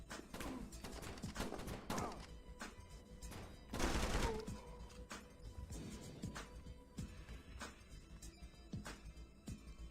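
Video game gunfire shooting through a wall: a run of sharp repeated shots and thuds, with a loud dense burst near the middle, played fairly close and without speech.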